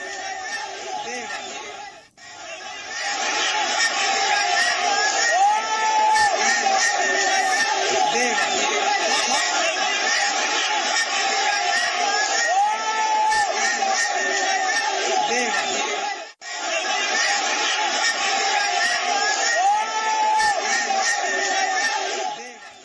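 Dense crowd noise from a large audience at a concert where fire extinguishers were used for crowd control, a continuous loud roar of voices and chatter with two brief dips, no clear single speaker.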